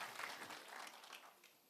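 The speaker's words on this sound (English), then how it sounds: "a round of applause for that message once again" Audience applause at a City of Johannesburg skills development programme graduation ceremony, a short burst of steady clapping from the crowd that gradually thins out toward the end.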